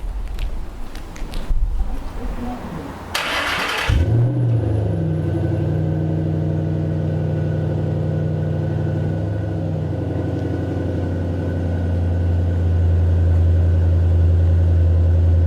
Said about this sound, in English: What I would do is start my car up so we see how that sounds in the background.